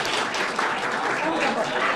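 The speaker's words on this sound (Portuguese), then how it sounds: "Uma salva de palmas para Alexandre de Moraes." Applause from the audience at a Brazilian transparency commission event, a steady dense wash of clapping across the whole stretch with some voices mixed in underneath.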